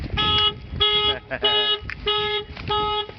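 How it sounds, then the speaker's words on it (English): A car alarm on a second-generation Mitsubishi Eclipse with a faulty alarm blares in repeated bursts of a rising, warbling siren tone, loud and close, with brief gaps between cycles. "Something with this alarm is not working properly"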